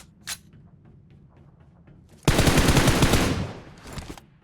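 A burst of rapid automatic gunfire from a shooter in PUBG Mobile rattles loudly for about a second and a half after a quiet stretch, followed by a few fainter trailing shots.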